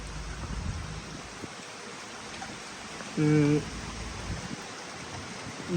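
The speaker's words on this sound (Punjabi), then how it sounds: "ਹੁਣ ਤੁਸੀਂ ਦੇਖ ਲਓ ਕਿੰਨੀ ਤੇਜ਼ ਮੀਂਹ ਪੈ ਰਿਹਾ ਪੂਰੀਆਂ ਸਪੀਡਾਂ ਤੇ" Steady broadband hiss of heavy rain in Belgium pours throughout, with a brief tonal hum rising in the middle; no clear talk over it.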